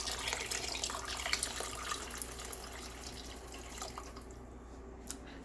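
Liquid is poured into a cooking pot holding chicken and collard greens, a faint trickling splash that tapers off toward the end.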